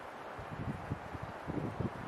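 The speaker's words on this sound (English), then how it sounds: "I don't know if you could hear the rushing, but whew, that's the wind." Steady rushing wind on a mountain buffeting the microphone, low rumbling gusts that swell and ease with no voices.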